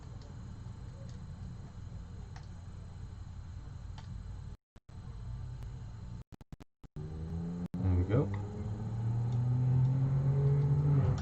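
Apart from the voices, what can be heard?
noisy car passing by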